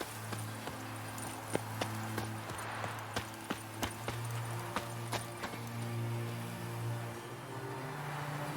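Horse hooves clip-clop in a steady walking rhythm in The Witcher 3: Hearts of Stone, each sharp hoof strike standing out clearly over a constant low in-game hum.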